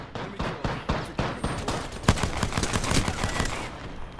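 Bursts of rapid gunfire in Apex Legends, a series of sharp automatic volleys close by and loud, followed by a denser flurry of overlapping shots, with little talk.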